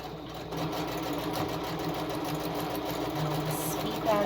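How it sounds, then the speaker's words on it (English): A sewing machine back stitches through a thick paper journal page, its motor whirring in a steady, even mechanical hum at close range, with faint talk in the background. "I should back stitch it a bit just to extra secure it on the end."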